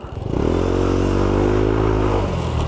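A Yamaha Aerox v1 scooter fitted with a new clutch spring revs up close and loud, its engine note climbing quickly, holding high and then dropping back toward idle.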